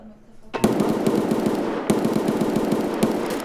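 Close automatic gunfire in Escape from Tarkov starts abruptly after a quiet moment and then continues as rapid, sharp volleys with a short break in the middle.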